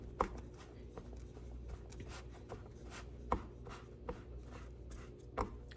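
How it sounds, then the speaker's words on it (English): Cookie crumb crust is pressed flat into a pan with soft, faint rubbing and patting, punctuated by a few light taps, quiet and close. "Then we're just going to be pressing it flat into the pan."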